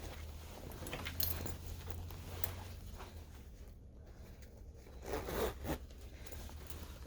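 A metal zipper slides along overalls being sewn, making short scratchy rasps and faint metallic clicks, close and quiet, with pauses between strokes and no talk.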